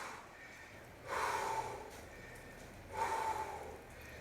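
Two deep exercise breaths during a summer body workout, each a rushing exhale about two seconds apart, soft and close with quiet pauses between them.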